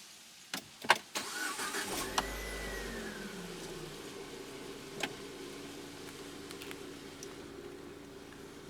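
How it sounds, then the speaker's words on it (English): A 2012 Proton Prevé 1.6 CFE engine starts by push button after a few clicks and a short whir, then settles into a steady low idle with occasional faint knocks. "To start the car, insert the key fob into the slot right here"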